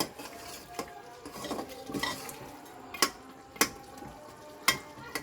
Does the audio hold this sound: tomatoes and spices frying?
yes